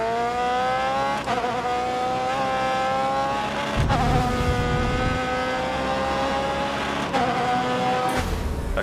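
An open-wheel race car engine in the racing game Grid Autosport screams loudly and continuously, rising through the revs with sharp drops at each gear shift and occasional lower rumbles beneath.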